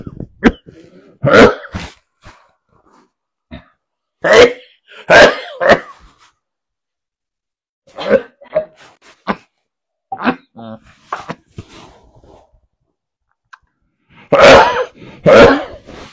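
Repeated harsh coughs come in bursts, close and loud, separated by quiet pauses, with short spoken bits mixed in.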